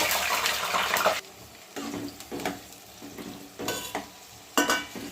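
Brinjal pieces deep frying in hot oil, giving soft bursts of sizzling and bubbling broken by short pauses and occasional stirring, fairly quiet and with no talk.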